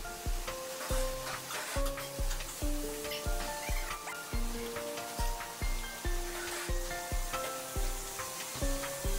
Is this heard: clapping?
no